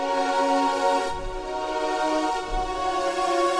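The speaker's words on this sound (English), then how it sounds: "I'm going to be adding this sound called Zimmers" Zimmers virtual instrument in an RnB beat: a sustained, bright harmonic pad with rich overtones, held chords and soft low swells, playing alone at steady loudness.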